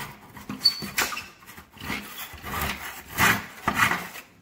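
A hand saw cuts wooden kitchen trim held in a miter box, producing rhythmic back-and-forth rasping strokes, close and fairly loud, with no speech.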